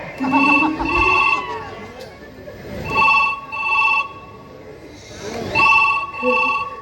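A telephone rings in a repeating double-trill pattern, three pairs of bright electronic rings, loud and close.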